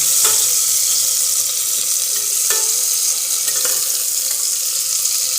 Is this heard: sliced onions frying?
yes